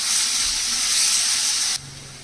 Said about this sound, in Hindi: प्याज को हम गोल्डन ब्राउन होने तक भूनेंगे।